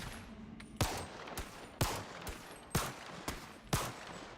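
Glock 22 pistol shots in the VR game Bonelab: sharp, loud single reports fired roughly once a second, with a few fainter pops between them, over a low steady background.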